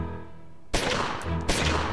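Gunfire in the turn-based mobster game Omerta: two sharp, loud shots burst out about three-quarters of a second apart, each ringing into a dense crackling tail over a low background hum.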